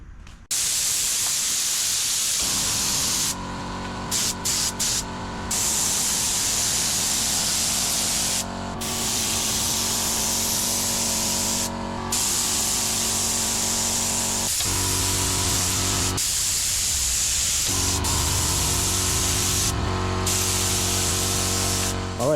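Primer is spray-painted onto plastic and fiberglass parts as a second coat. A loud, steady aerosol hiss runs almost continuously, broken by a few short pauses between passes.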